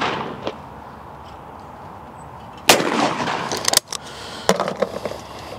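A Miroku shotgun fires at a clay shooting stand: one sharp, loud blast rings out, followed by a couple of quicker cracks and distant pops over an outdoor background, with no one speaking.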